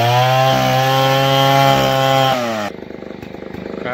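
A chainsaw cuts through neem wood being split into posts, its engine holding a loud, steady whine that drops abruptly to a rougher, lower idle rattle near the end.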